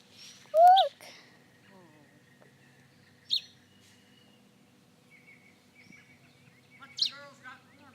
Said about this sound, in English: It's a baby bird. He fell out of his nest,